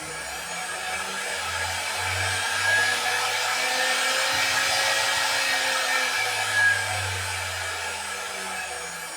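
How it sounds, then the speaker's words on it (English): A DIY CNC router's spindle runs steadily, driven by a loud VFD on a RatRig KillerBee build, giving a continuous high-pitched electronic whine with a low hum underneath, holding constant for the whole stretch with no talking. "as you can hear, the VFD is quite loud"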